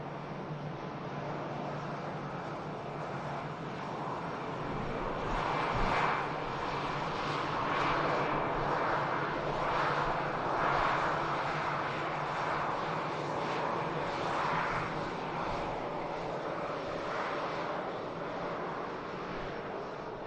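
An A380 airliner in NBA livery touches down at Manchester Airport, its engines giving a sustained distant roar that swells slightly midway and stays steady, with no voices.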